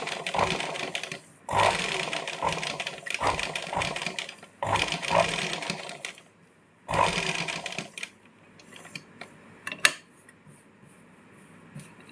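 A sewing machine stitches cloth around a circle in several loud rapid bursts of a second or two each, separated by short pauses, ending in fainter clicks and handling.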